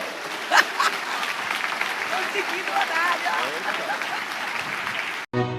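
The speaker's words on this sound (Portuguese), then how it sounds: "Vamos aplaudir ao Senhor." Church congregation applauding during a service, a sustained wash of many hands clapping at steady volume throughout, with scattered voices and cheers mixed in before it cuts off abruptly.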